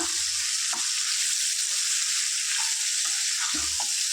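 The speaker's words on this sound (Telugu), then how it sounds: "ఈ విధంగా మంచిగా ముక్కకు మసాలా అంతా పట్టేటట్టు కారం పొడి మసాలా అంతా కలిసేలా చక్కగా ఫ్రై చేసుకోవాలి" Chicken pieces coated in masala and chili powder sizzle steadily in a pan, a constant bright frying hiss with a few soft stirring scrapes, close and continuous with no talking.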